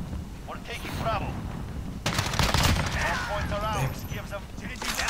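Gunfire from a gun in the Modern Warfare multiplayer beta video game: a loud burst of rapid shots starts midway and runs for about a second, with further scattered shots. Game voices and chatter are heard throughout.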